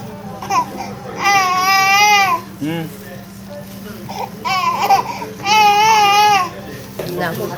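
An infant cries in two long, loud wailing bursts with whimpers between them, close by, while adults speak softly around the baby.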